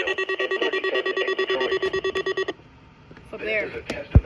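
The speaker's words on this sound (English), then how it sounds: "This is a test of the National Weather Service weather radio warning alarm" A NOAA weather radio warning alarm tone from the WWG56 Youngstown, Ohio transmitter pulses loudly and rhythmically for about two and a half seconds, then cuts off, followed by a synthesized announcer voice beginning to speak.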